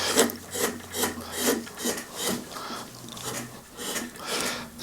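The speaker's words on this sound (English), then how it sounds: "So the same grip and the slice and cut now, I can start smoothing all those over." Wood carving gouge slicing and smoothing a carved 3D boss, a close run of soft rasping cuts in an irregular rhythm, about a dozen strokes, with no voice.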